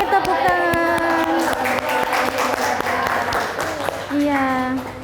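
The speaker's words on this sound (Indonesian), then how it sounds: "Boleh tepuk tangan." A classroom group claps after a chemistry lesson presentation, a brief burst of applause mixed with voices and talking over it, close and fairly loud.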